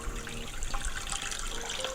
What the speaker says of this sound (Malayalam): ഇനി നമുക്ക് ആവശ്യത്തിന് വെള്ളം ചേർത്ത് കൊടുക്കാം.